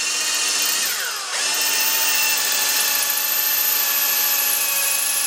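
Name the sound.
power drill drilling into antler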